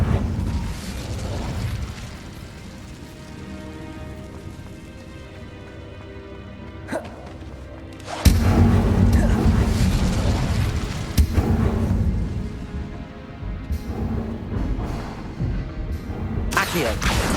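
Incendio fire spell cast in Hogwarts Legacy on PS5, heard as a few heavy booming blasts that burst out and fade over a bed of background ambience.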